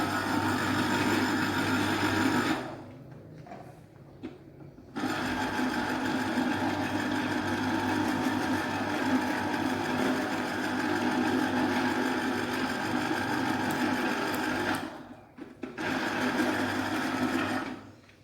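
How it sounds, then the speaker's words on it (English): An electric juicer extracting juice from oranges, giving a loud steady motor whir that stops briefly twice, with quieter rattling in the pauses and no talk. "I'm taking the juice out of the oranges"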